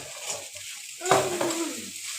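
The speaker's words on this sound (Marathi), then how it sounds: "आता ती थोडीशी परतवायची आहे, परत आपण हलवून घ्यायची आहे." Sabudana khichdi being stirred and roasted in a pan, a short soft scraping sizzle with one louder stir in the middle, close and brief.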